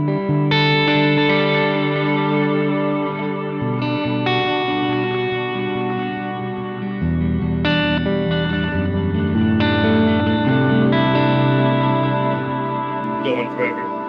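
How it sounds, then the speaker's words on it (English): A guitar played through a pedalboard with a long delay engaged, sustained chords and notes repeating and trailing off into a wide, washy ambient haze, loud and continuous with no reverb added. "kick on the long delay and it gets kind of ambient without even having reverb on."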